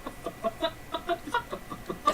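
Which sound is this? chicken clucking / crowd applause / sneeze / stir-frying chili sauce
chicken clucking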